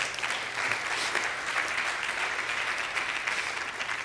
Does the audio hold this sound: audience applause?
yes